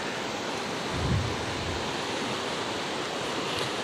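A flooded river near Gurudwara Shri Toka Sahib, carrying big boulders and rocks along, roars as a steady, dense wash of rushing water, loud and close, with a brief low thud in the middle.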